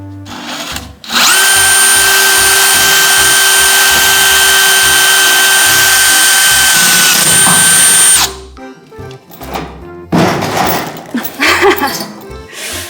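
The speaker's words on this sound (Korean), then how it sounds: "그리고 철판을 뚫을 때는 2단보다는 1단이 나아요. 제가 한번 뚫어볼게요." Stanley 20V cordless drill boring through steel plate on low speed: a loud, sustained high-pitched motor whine for about seven seconds, ending abruptly, followed by clattering handling noises.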